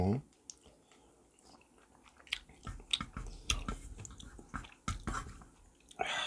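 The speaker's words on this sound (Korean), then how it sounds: "물비빔면 한번 먹어보겠습니다" Someone eats cold water naengmyeon noodles mixed with Paldo bibim sauce, the ghost pepper naengmyeon giving close, wet chewing, slurps and bites in irregular bursts.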